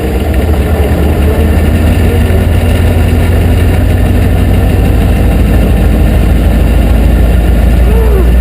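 A car engine, just restarted after a push start, runs steadily at idle with a loud, continuous low rumble that holds the whole time.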